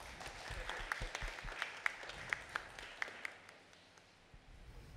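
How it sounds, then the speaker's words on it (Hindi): Scattered clapping from a congregation at a church pastoral installation service in Delhi, a thin patter with a few sharper individual claps, moderately distant, tapering off toward the end. "ताली बजा सकते हैं"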